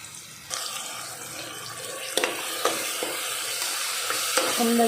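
Ground spice masala sizzles in a hot pan as a spoon stirs it, with a steady frying hiss broken by a few sharp scrapes and knocks against the pan, close and clear with no talking.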